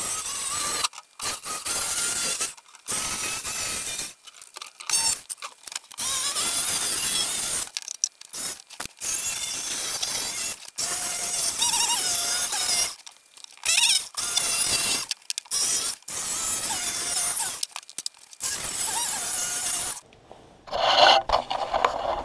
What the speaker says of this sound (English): I'm going to cut this out with the jigsaw